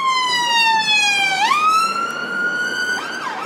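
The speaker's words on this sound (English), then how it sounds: "Ambulance." An ambulance siren passes close by, a loud wailing tone that rises, dips and sweeps again with a clear pitch drop as it goes past, sounding alone without talk.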